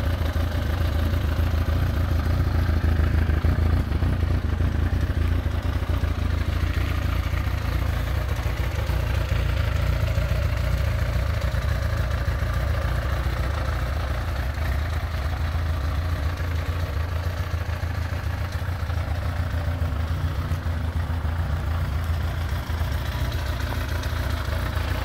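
A 1996 Yamaha FZR1000 motorcycle fitted with a new exhaust idles steadily, a loud, continuous low engine rumble with light mechanical clatter and no talking.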